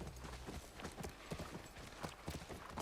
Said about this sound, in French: C'est notre cheval.